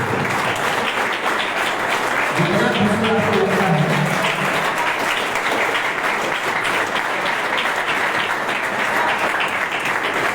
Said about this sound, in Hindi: तालियों से तो अपनी अभिव्यक्ति कर सकते हैं ना